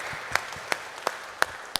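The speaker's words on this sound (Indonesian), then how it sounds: "Boleh tepuk tangan dulu dong teman-teman." Five sparse, evenly spaced claps ring out in a church hall during an Easter praise night, each a sharp isolated crack with quiet gaps between, more like a few people clapping slowly than a full crowd.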